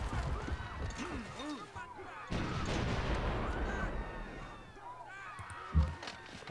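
Units in Civilization 5 fire in booming artillery-like volleys and crashes, a dense run of blasts with a sharper hit near the end, while someone talks over it.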